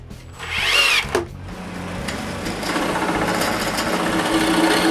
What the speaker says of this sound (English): On the lowest rails, I screw a piece of plywood